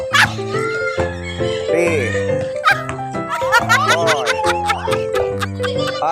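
Dog barks and yips mixed with music and children's voices during a kids' jogging exercise session, short barks scattered through a loud, busy backdrop with talk.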